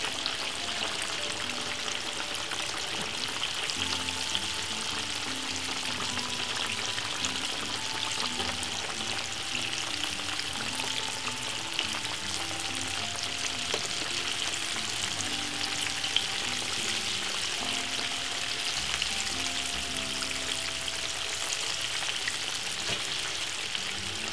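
Seasoned chicken, flavored with chili, fries in hot oil with a steady, dense crackle and sizzle that holds an even level throughout, close and continuous with no talking.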